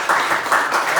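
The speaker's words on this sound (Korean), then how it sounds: "우리 박수 한번 쳐주시죠" Applause from a church mission-training lecture audience, a short burst of steady, dense clapping filling the room with no voices.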